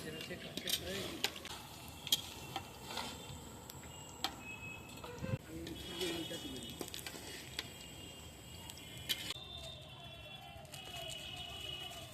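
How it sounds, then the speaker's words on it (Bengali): Eggplant fritters (beguni) fry in hot oil while khichuri prasad is cooked for Saraswati Puja, a steady sizzle broken by clicks and utensil knocks, with voices talking at times. "এবার বেগুনি ভেজে নিচ্ছি।"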